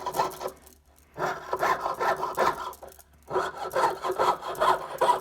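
A jeweller's piercing saw cuts metal in close, rhythmic rasping strokes, two bursts of back-and-forth sawing separated by a short pause.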